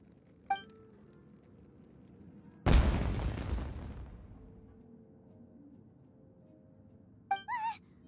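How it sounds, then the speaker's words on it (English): A sudden fireworks-like explosion booms in the Genshin Impact video game, a single loud blast decaying over about a second amid quiet game ambience with short chimes before and after. "Was that an explosion? It sounded like fireworks."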